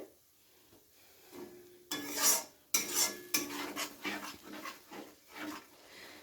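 A curry mixture with yogurt stirred over a low gas flame for a Bengali rui fish jhol, the spoon scraping and clinking against the pan in uneven bursts, fairly close, with no talking.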